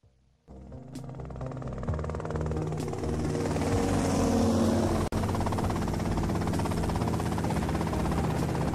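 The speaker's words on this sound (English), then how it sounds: "that's them in the chopper" A helicopter flies close by with a loud, steady rotor drone and engine whine that builds in the first seconds and holds, broken by one brief sharp dropout midway, with no speech.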